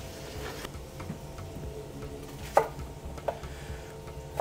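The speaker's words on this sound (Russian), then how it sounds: "Нарежу лук, морковку." Knife chopping onion and carrot on a cutting board for solyanka, a few sparse, sharp taps scattered over a quiet, faintly humming background.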